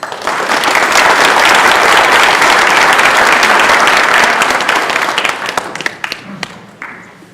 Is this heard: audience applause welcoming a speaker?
yes